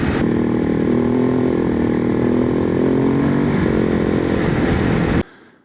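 KTM 690 Enduro R single-cylinder motorcycle riding along a Finnish road, a loud, steady engine drone with wind roar and a slight pitch shift, cutting off abruptly near the end; no talking.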